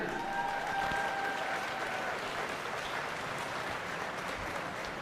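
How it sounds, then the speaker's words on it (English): Crowd applause rings out for the Alachua County Youth Fair ambassadors at a livestock show arena, a steady wash of clapping that stays loud and even for several seconds with no talk over it. "Have a round of applause for our ambassadors."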